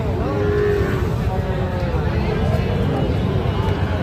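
Sahiwal bull calves low at a busy cattle market, drawn-out moos rising and falling over a dense, continuous crowd babble of traders talking nearby.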